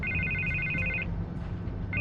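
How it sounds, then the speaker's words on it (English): Telephone ringing in the Batman: The Telltale Series video game, an electronic ring tone trilling for about a second, pausing, then starting again over a low background hum. "I can't get the phone to stop ringing."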